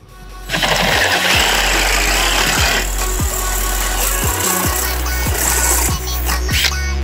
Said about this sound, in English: I need to drill the center of this out so that it'll fit over that bolt